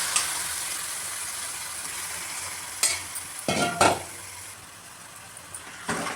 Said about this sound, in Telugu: మటన్ అయితే మంచిగా అన్నీ కలిసేలాగా కలుపుకోవాలండి.